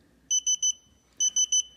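An IRF-2SA cooking thermometer's timer alarm beeps in two sets of three quick, shrill electronic tones, loud and close, with a short pause between the sets.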